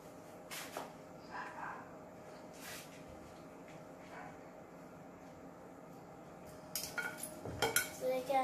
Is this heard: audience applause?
no